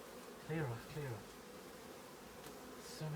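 Honeybees buzz thickly around a beekeeper, a constant close hum with a few louder passes of single bees near the ear, and no voice over the drone.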